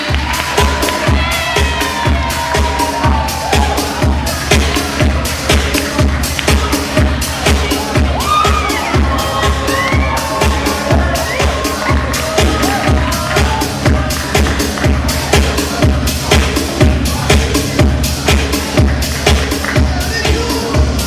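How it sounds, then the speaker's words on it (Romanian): An audience at a freshmen ball cheering and making noise as the freshmen come onto the stage, a loud and steady crowd roar with shouts and whoops over pulsing background music. "Haideți să-i aplaudăm!"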